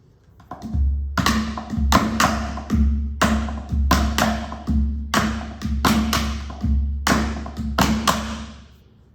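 Hollow ipu gourd drum strikes in a steady repeating hula pattern, deep thuds alternating with sharper slaps, loud and close, no chanting voice evident.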